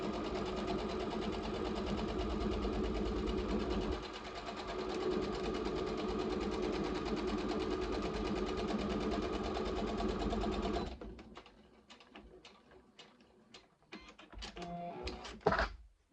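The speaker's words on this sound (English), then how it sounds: "now I'm going to stitch the lining" A sewing machine stitches the lining of a small fabric book sleeve in one long, steady, close whirring run, then stops and gives way to a few short, quieter bursts of stitching and handling noise.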